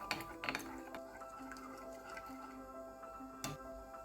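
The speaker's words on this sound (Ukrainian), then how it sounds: "Перемішуємо до повного їх розчинення." Quiet, close stirring of yeast into warm water for pizza dough: soft liquid swishes with light spoon taps and clinks against the bowl.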